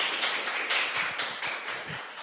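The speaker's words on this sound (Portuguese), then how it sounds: "E aplausos" Applause for Jennifer after her talk on sexuality and identity, a dense wash of many hands clapping steadily at close range, with no voices over it.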